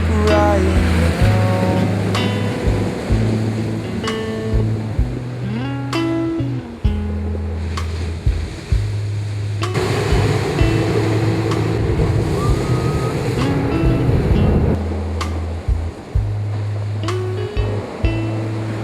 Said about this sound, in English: These large waves had been generated by storms in the Atlantic.